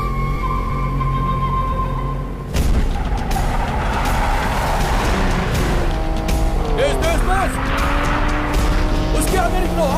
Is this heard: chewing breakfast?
no